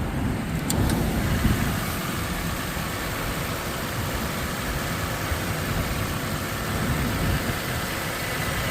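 A Toyota Sequoia TRD Sport 4WD with a 5.7-liter V8 idles steadily and quietly under the open hood in freezing weather, a smooth, even engine hum that stays constant throughout with no talking.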